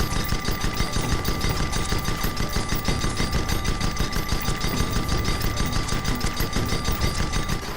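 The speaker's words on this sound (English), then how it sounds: "Shoot at that target dummy's hull till it breaks" Rapid continuous gunfire rattles without a break from a weapon built to strip armor, aimed at a target dummy's hull in the airship game Guns of Icarus Alliance. The shots are loud and dense and no voices are heard.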